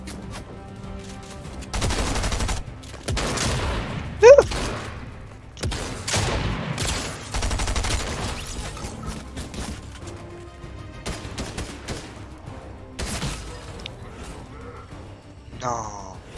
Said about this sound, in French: Fusil d'assaut Mark 7 de la fondation.